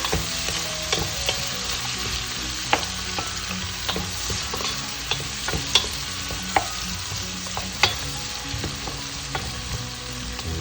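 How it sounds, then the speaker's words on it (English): Chopped vegetables and peppers sauté in a hot pan for mung bean soup. A steady close sizzle runs throughout, broken by sharp scraping clacks as a utensil stirs them at irregular intervals. "And a little bit of salt for sauteing. And let's give them a stir."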